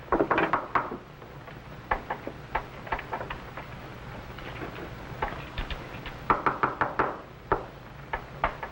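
Knocks on a wooden door in an old radio drama, several sharp raps in uneven clusters, close and fairly loud over a quiet background hiss.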